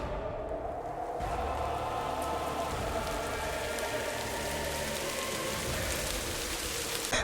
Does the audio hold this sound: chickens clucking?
no